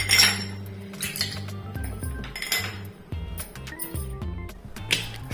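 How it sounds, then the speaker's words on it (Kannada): Ice cubes drop into a glass of cucumber juice, making a run of irregular bright clinks and rattles close by against a faint background. "ಐಸ್ ಕ್ಯೂಬ್ ಹಾಕ್ತಾ ಇದ್ದೇನೆ"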